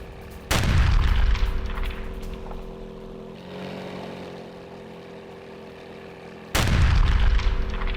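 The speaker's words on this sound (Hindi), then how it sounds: "रूसी हमले के बाद बहुत बड़ा धमाका" A large explosion during a Russian attack on Ukrainian military sites booms loud and close, followed by a lingering rumble and a low hum, then a second heavy blast bursts in at the end.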